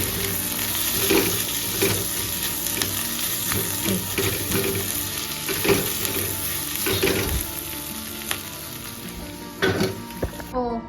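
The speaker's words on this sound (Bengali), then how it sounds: "ভাজতে দিয়ে দিয়েছিলাম ভালো করে ভাজবো কড়া করে" Food fries steadily in a hot pan with a continuous close sizzle and crackle, punctuated by occasional stirring clinks and scrapes, with no voices.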